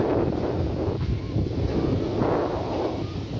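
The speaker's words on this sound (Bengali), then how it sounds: "কি বাতাস, কত সুন্দর বাতাস" Wind blows steadily across the microphone on a sea beach beside Bhatamatha village, a dense, rumbling roar with gentle swells in loudness throughout.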